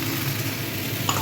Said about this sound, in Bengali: সবজিগুলো ভালো করে মিশিয়ে নেব, একটু ভাজা ভাজা হয়ে যাবে।